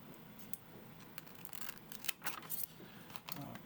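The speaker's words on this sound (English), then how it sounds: "I first have to measure it and cut it to size." Scissors cutting tape to size during a Lenovo X1 Carbon Gen 12 OLED screen replacement, several quiet close snips and crinkles in quick succession.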